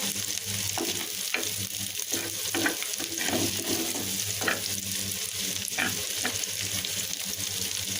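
Onion and garlic sizzle steadily in a hot pan, with frequent stirring scrapes over the continuous frying hiss.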